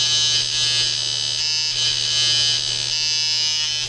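A tattoo machine tuned to 154 hertz at 58 percent duty buzzes steadily and loudly at close range, a constant unbroken electric hum with no pauses or talk.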